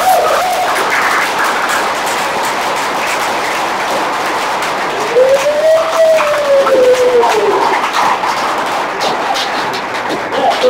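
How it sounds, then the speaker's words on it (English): A large audience applauds at capstone project presentations, a loud, dense, steady clatter of many hands lasting the whole stretch, with a brief whistle rising and falling midway through. "One more round of applause for these."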